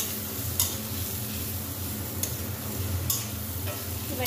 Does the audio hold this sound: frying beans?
yes